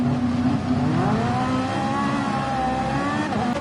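Race car engine from a racing video game at Red Bull Ring, a loud continuous high-pitched whine with pitch rising and shifting as it revs, heard alone for a few seconds.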